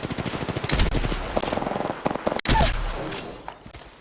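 Rapid automatic gunfire from the PC battle royale game Apex Legends, loud and close, with dense bursts of repeated shots and a brief cut near the middle.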